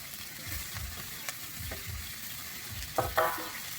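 Peas and capsicum sizzle steadily in a hot pan, a continuous crackling fry with a few soft clinks of a spoon stirring near the end.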